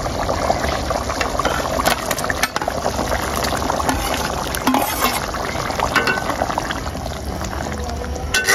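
Fried shrimp are added to a spice masala that is bubbling in a pan with a little water, making a continuous close boiling crackle with scattered stirring and clinks throughout; no one talks.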